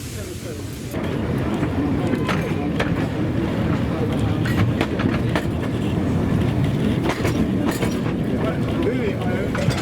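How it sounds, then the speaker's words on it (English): A train on the Pithiviers–Toury tramway, a light narrow-gauge rural line laid beside the road, rumbles along the track with continuous rolling noise and repeated clicks at the rail joints, fairly close and steady. Someone speaks over it. "The first train of the day conveyed a cafe wagon at the rear"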